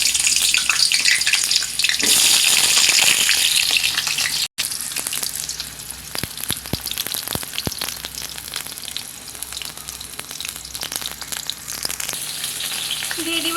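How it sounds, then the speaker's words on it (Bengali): Cut pointed gourd pieces frying in hot oil in a wok: a loud, hissing sizzle that flares at first, then settles into a steady, crackling fry with faint stirring. "তেল গরম হয়ে আসছে, এবারে দিয়ে দিব কেটে রাখা পটলগুলো।"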